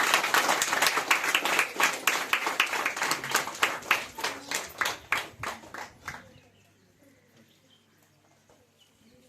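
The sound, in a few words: audience applause at a women's day event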